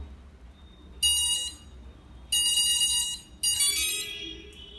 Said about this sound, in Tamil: இப்போ மோட்டரில் தான் ஒரு டியூன் கேட்கும்